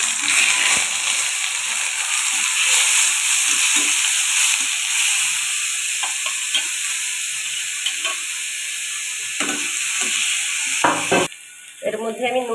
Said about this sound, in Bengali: এই তেলের মধ্যে এখন পেঁয়াজটা আমি দিয়ে দেবো।